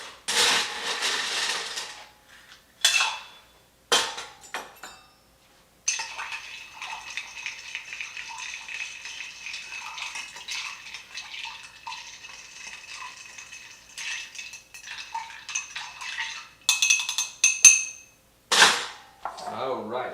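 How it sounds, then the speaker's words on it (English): Ice cubes rattling and clinking in a mixing glass as a cocktail is stirred, a steady close jangle with a few sharper knocks before and after. "We are now going to add our ice and stir."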